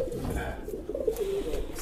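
A prize-winning contest dove cooing close by, a soft, low, rolling coo lasting about a second over a quiet background.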